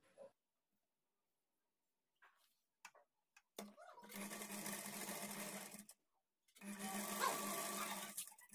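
A sewing machine stitches blouse fabric in two steady whirring runs, each a couple of seconds long, separated by a brief pause. A few faint handling sounds come before the machine starts.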